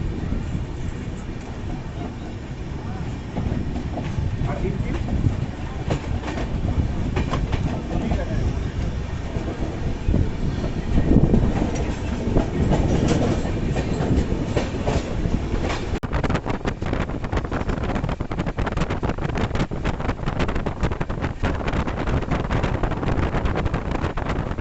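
The 12345 Saraighat Express, running from Howrah toward Guwahati, rolls on after leaving Sainthia Junction with a loud, continuous rumble, rhythmic clickety-clack of the wheels and buffeting wind throughout.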